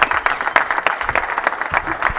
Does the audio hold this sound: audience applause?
yes